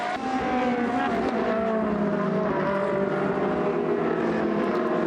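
Ferrari Challenge Trofeo Pirelli race cars on the opening lap of a track race, several engines whining at high revs in overlapping rising and falling tones, loud and continuous as the cars pass close.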